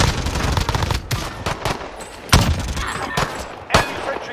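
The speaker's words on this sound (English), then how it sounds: "there's a fucking sentry turret" An automated sentry turret firing in a shooter video game: loud, sustained machine-gun chatter with heavy thumping impacts and a few sharper, louder shots standing out from the rapid stream.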